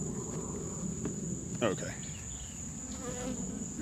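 Honey bees drone steadily around an open hive while it is being expanded and filled with feed, a dense continuous buzz, close and even throughout, with a brief spoken word and light handling noises over it.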